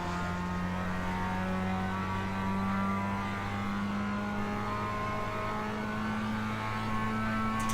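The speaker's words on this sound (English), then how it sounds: "for the moment I'm braking at the 2 cone there and then going down to 2nd" A Mazda MX-5 circles the Sebring track, its engine droning steadily from inside the cabin. It brakes and downshifts to second gear, and the engine note holds a constant, fairly loud hum with no talking.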